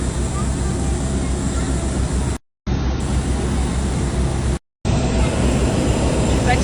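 Steady broadband roar of an airliner's engines in flight, heard from inside the cabin on a four-hour flight to Dubai, loud and continuous with two brief dropouts to silence.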